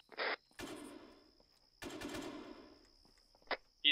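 Gunfire in a video game: a few sharp shots and short rattling bursts, separated by gaps, sound fairly close and stand alone without talk.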